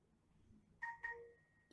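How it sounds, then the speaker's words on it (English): A phone rings with two short electronic chime bursts, then a held tone, fairly quiet against a hushed room with no one talking. "Oops, sorry for that crazy phone."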